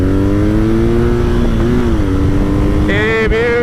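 A 2020 BMW R nineT Scrambler motorcycle accelerates to overtake, its loud, close engine drone climbing steadily in pitch and swelling toward the end under constant wind rush.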